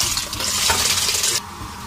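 Yogurt is stirred into a sizzling masala in a pan, giving a steady, close scraping-and-frying hiss that drops off sharply near the end.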